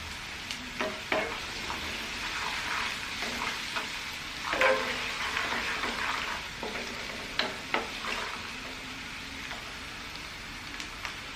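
Ginger and garlic fry in a pan over a medium flame for a spicy homemade buffalo-meat pickle: a continuous close sizzle broken by intermittent stirring scrapes and clicks.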